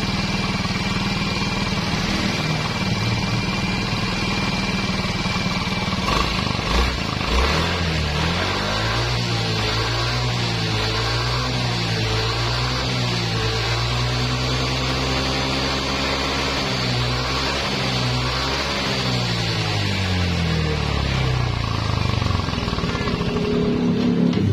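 A used motorcycle engine runs steadily at idle, then revs up and down several times in rising and falling sweeps before settling back to a rough idle.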